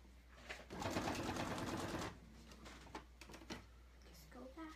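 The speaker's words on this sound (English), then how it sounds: "I'm going to sew up here." A sewing machine stitches fabric for a dress costume in a loud, steady whirring burst of about a second and a half, followed by a few brief handling sounds.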